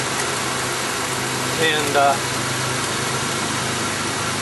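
A car engine idles steadily while it is charged with R12 refrigerant, a constant mid-pitched drone with brief higher tones and a short spoken word over it.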